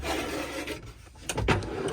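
A cutlery tray slides into a drawer in a Swift Escape 684 caravan, a soft wooden rubbing scrape followed by a couple of light knocks and a brief rattle, quiet and close with no talk.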